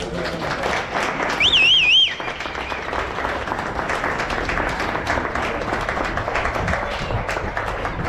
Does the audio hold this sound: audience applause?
yes